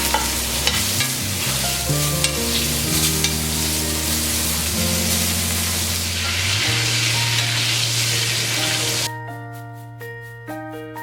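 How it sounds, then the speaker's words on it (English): Steak sizzles in a cast iron skillet while butter, garlic and rosemary are spooned over it, giving a loud continuous frying hiss with scraping stirs, then metallic clinks near the end as the sizzle drops. "add my garlic, rosemary, and butter and start basting the steak"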